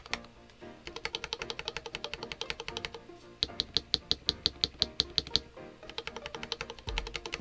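Rapid typing on a Halo75 mechanical keyboard with Gateron Baby Raccoon linear switches, close and crisp, with bursts of quick keystrokes separated by short pauses.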